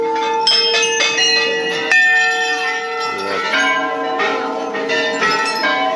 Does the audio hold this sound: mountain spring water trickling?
no